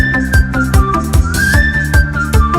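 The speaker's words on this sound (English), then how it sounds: "Now whistle this way." A bright whistled melody rides over a thumping, bouncy music track with a steady beat, clear and prominent throughout.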